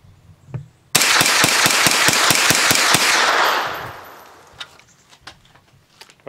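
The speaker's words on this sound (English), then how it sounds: "Ten shots, standard buffer." Ten rapid shots from a 9mm carbine fitted with a standard buffer, loud, sharp reports in quick even succession, followed by a long ringing decay and a few faint clicks and handling noises.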